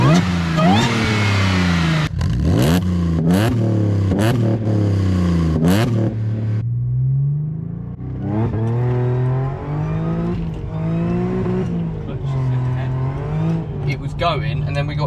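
Audi S4 launching hard for a 0 to 60 run with a slipping clutch, the engine note rising loudly in sweeping revs that drop at each shift, then pulling again at steady volume while people talk over it.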